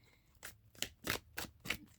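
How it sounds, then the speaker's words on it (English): Tarot cards being shuffled by hand, five quick crisp riffling bursts in a steady rhythm, close and clear with no talk over them. "I'll do a quick little shuffle"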